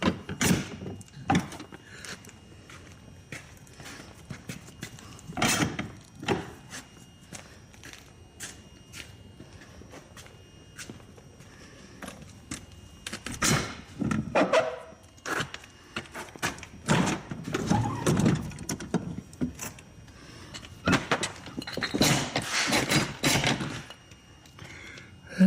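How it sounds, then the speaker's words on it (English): A homemade steel hangar door with welded latches built from 2-inch by quarter-inch steel clanks and bangs as it is operated, giving irregular metallic thuds, scrapes and latch clunks close by, with no talking. "And that's how the door latches work."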